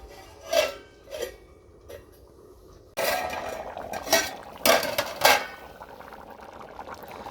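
A pot of white cannellini beans is covered with a lid: a few soft metallic clinks and knocks, then louder clattering bursts as the lid settles, over a low bubbling simmer.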